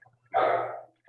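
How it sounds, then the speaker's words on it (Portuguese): A single dog bark or short vocal yelp, fairly close and clear, lasting about half a second and standing alone in a quiet room, followed by a brief start of another sound at the end. "um cachorro querendo fazer alguma pergunta aí, é que a gente não entende a língua do cachorro"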